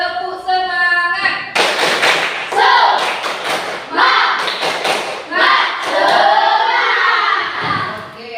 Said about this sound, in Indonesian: coba tunjukkan semangat kita dengan tepuk semangat